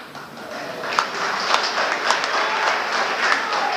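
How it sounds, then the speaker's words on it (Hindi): Audience clapping and applause in a lecture hall during a Hindi speech, steady dense patter with a few sharper claps standing out, moderately loud and continuous throughout. "अच्छा, आपने अभी ताली बजा दी है।"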